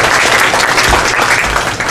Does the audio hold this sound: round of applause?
yes